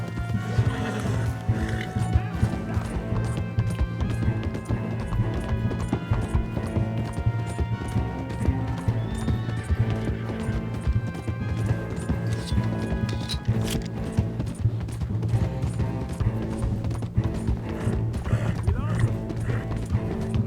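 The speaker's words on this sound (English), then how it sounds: "I don't know how my horse got here, but hey. Ride, let's lose them." A horse gallops in Red Dead Redemption 2, its hooves beating a steady, rhythmic clip-clop throughout, with game sounds and occasional voices underneath.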